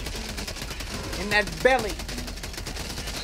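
Automatic gunfire in the video game Helldivers 2, aimed at a large enemy: dense, continuous shooting runs through the clip, with a couple of louder bursts near the middle, while a player talks over it.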